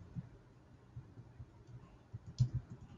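A computer mouse clicking while working in Innoslate requirements management software, a few soft quiet clicks spread over a low room hum, with a sharper pair of clicks near the end.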